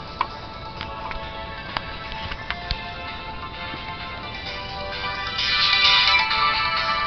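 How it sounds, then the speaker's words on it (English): Mobile phone ringtone ringing, a tinny repeating electronic melody with ticking accents heard alone, growing somewhat louder toward the end. "Phone ring 24/7, man."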